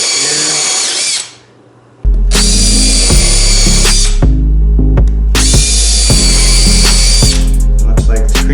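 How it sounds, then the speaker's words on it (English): A power drill drives screws into wood, with loud whining bursts of a couple of seconds each and short pauses between them, close to the listener and alone. "But now I can drive some screws"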